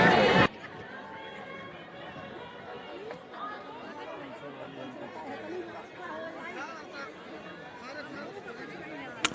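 Pilgrims crowd Sangam ghat at the Maha Kumbh in Prayagraj, a dense babble of many voices and bustling movement running continuously at moderate level, opening with a brief loud burst.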